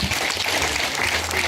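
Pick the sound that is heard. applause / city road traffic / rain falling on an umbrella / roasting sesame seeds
applause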